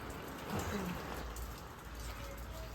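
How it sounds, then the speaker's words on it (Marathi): Soft, steady rainfall patters continuously on surfaces nearby, a quiet even wash of drops with faint background sounds. "आता पाऊस पडतोच आहे"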